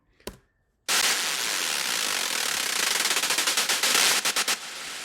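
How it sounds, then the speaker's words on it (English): Serum synth noise oscillator layer in an electronic track: a sharp click, then a burst of bright hissing noise that holds steady and then chops into rapid rhythmic pulses, loud and alone. "I literally just added a serum and had the noise oscillator on."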